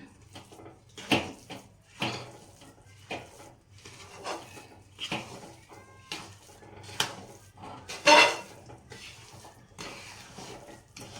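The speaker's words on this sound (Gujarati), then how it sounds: "બધું મિક્સ કરી દઈશું આપણે." Methi pak mixture with poppy seeds and cardamom powder stirred together in a pan, with scattered clinks and knocks of a spoon against metal, sparse and moderately close, no voices.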